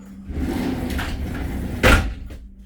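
A three-panel tempered glass shower door in a 2023 Entegra Accolade XL RV bathroom slides and shuts with one firm, close thump near the end, after a soft rolling rattle.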